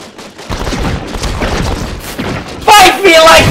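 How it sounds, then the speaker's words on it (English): Ship cannon bombardment in a pirate video game, a dense spray of booming shots and thuds, with a person shouting excitedly over the gunfire. "Bombard the ship! Sink that!"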